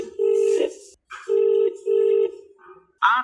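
An unanswered phone call to a regional transport office rings back in a steady tone, several sustained pulses separated by short gaps, heard close as if through the handset, with a brief voice-like sound at the end.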